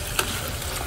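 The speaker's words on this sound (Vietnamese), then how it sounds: "mình chiên cho nó vàng giòn đấy các bạn nhé" Crab frying in a pan until golden and crisp, a steady close sizzle with a brief stirring scrape near the start.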